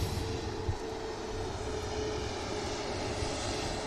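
A Ryanair Boeing 737 takes off from Manchester Airport, a faint, steady jet rumble from afar with a thin whine running through it, and no one talking.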